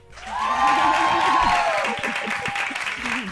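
A burst of applause and light cheering rises and fades over a few seconds, mixed with a raised voice talking over it.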